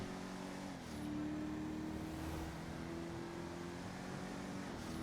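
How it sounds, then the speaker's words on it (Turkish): A car in GTA 5 Online, a slow model, accelerates in a steady engine drone with gear shifts audible as pitch changes, moderately quiet and continuous. "Sadece arabamızın hızını deniyoruz arkadaşlar."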